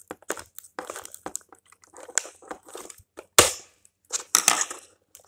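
A giant Kinder Joy plastic egg being opened: a string of sharp plastic cracks and crinkling snaps, close and irregular, ending in a few loud pops.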